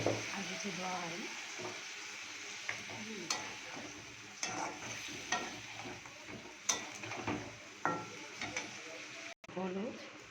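Cumin, ginger and green chili paste frying in a pan, a continuous close sizzle with scattered utensil scrapes and clinks, while someone talks over it.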